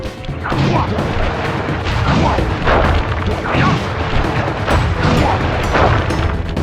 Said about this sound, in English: I will send you to your doom with the beauty of my new firework technique, Flame Foo